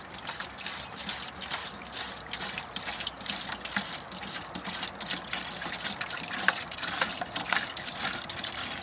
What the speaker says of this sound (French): On verse dans l'arrosoir.